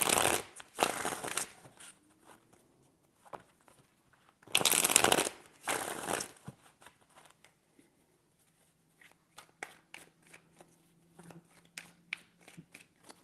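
Tarot cards being shuffled in two loud riffling bursts, followed by scattered light card taps and soft handling noises in a quiet room.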